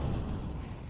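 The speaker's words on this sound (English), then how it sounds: "Huge nade." A grenade blows up in Counter-Strike during a professional esports match, a single loud, deep boom that rolls off over about a second. No one speaks.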